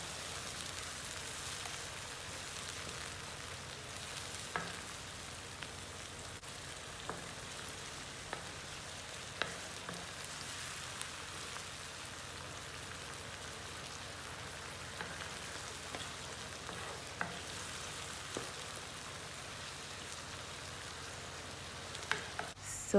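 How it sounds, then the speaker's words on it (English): A blended mixture sizzling and frying with onions in a pot for egg stew, a steady faint crackle with soft scattered pops of stirring throughout. "I added what I blended earlier on into my onions, and I'm going to be giving it a good stir"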